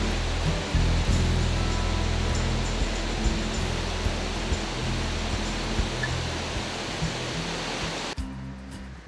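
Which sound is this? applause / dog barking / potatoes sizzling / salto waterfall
salto waterfall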